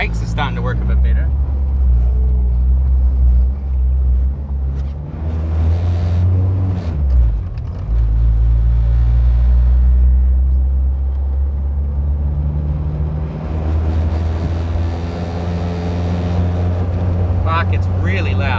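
A K-swapped Honda CR-V with a custom exhaust drives on the road, its engine booming loud and rough with rising and falling revs and deep rumble, while a voice talks over it.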